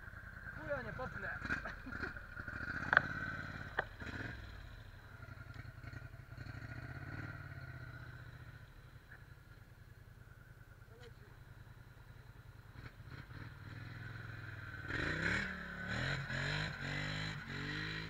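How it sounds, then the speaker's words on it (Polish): An engine runs steadily, idling with a low rumble, with occasional clatter and a brief louder rev near the end. "fajnie ten silnik chodzi"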